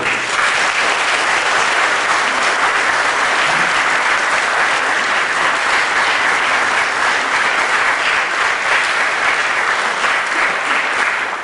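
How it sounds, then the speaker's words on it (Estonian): Sustained, steady applause from a large audience at a school graduation ceremony in Viljandi, honoring the teachers; even, dense clapping fills the hall throughout with no pause and no speech. "Teeme õpetajatele aplausi."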